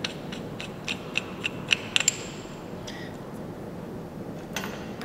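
A wrench clicks several times while loosening a 24 mm fitting on an electric piston pump airless sprayer for plaster. The light ratcheting ticks come in a brief, evenly spaced series, close by, followed by faint metallic rattles.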